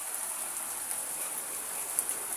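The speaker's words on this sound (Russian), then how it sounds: "дождь хороший" Rain with hail falls steadily as a soft, even hiss, with a few sharper taps of hailstones hitting surfaces, heard alone at moderate distance.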